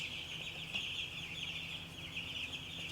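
Chickens cluck softly nearby over a constant high insect-like background hum, with no talking.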